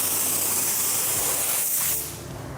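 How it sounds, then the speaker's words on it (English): A high-pressure paint sprayer gives off a loud, steady hiss that cuts off near the end, leaving a quieter background hush. "The reason I'm spraying at high pressure"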